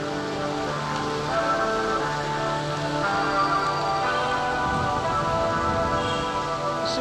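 Steady rain falls outside as a continuous, even hiss with dense patter on surfaces, loud and unbroken for the full stretch.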